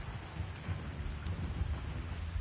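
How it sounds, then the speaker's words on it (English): Steady rainfall with low rumbling thunder in the video game Dying Light 2, a dense wash of rain patter over a deep rolling rumble, continuous and moderately quiet, with no voices. "Hate to be on the field when it rains."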